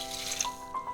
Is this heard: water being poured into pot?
yes